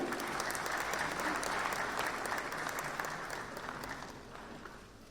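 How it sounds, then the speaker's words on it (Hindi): Sustained applause from a large audience at a national film awards ceremony, dense and even clapping that gradually thins and fades toward the end, no voices over it. "श्री रजावत के लिए जोरदार तालियां"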